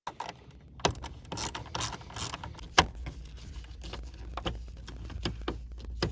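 Phillips and 7mm screws are worked out of a Cadillac Fleetwood HVAC control unit, giving faint ratcheting clicks, small metallic taps and rattles that come in scattered bursts close by.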